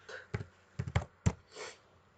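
Keys clack on a computer keyboard, a few quick close taps in uneven bursts followed by a softer rustle, in a quiet room with no talking.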